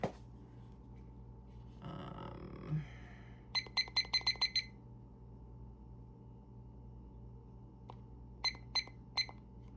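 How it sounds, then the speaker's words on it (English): A kitchen timer being set for a casserole gives short bursts of sharp electronic beeps, a rapid run of five or six presses followed later by a few more, over a quiet room hum with brief rustling. "I'm going to set our timer."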